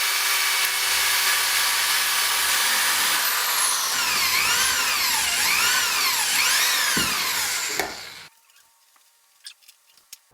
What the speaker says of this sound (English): after drilling out these holes a little bit more to make them line up